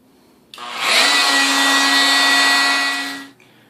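A Dremel oscillating tool with a carbide blade grinds out tile grout in one steady, loud buzzing run of about three seconds, starting abruptly and cutting off cleanly.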